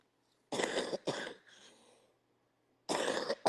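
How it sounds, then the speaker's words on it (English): A woman suffering from allergies to pollen and falling leaves coughs close to the mic: two harsh coughs, a raspy trailing breath, a pause, then another hard cough. "I've been coughing so much because of the goddamn leaves falling off the trees and the pollen"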